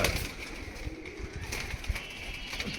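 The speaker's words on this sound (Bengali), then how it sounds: "তো এইখানে এই ধরনের কবুতর আরও রয়েছে এখানে" Andhra bloodline pigeons in a loft coo softly and rustle, close by and continuous at a moderate level.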